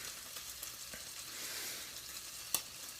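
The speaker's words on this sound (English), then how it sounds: "Listen to that sizzle." Bacon frying in a pan, a soft, faint steady sizzle with a few small pops and one sharper crackle near the end, heard alone without voices.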